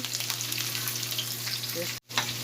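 Okra sizzles steadily in a hot pan during home cooking of a Bengali meal, a continuous close hiss and crackle interrupted by a momentary cutout near the end.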